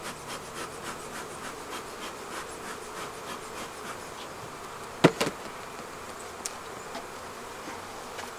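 Sparse honey bees buzz faintly inside a hive box from a dead-out colony, a thin continuous hum with a couple of brief knocks or scrapes partway through.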